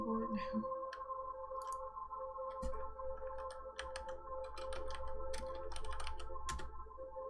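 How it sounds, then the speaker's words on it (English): Irregular keyboard clacks in a video game tap out in quick bursts over a steady electronic hum, close and crisp, with a few louder key presses. "Do we just type tool room on the keyboard now?"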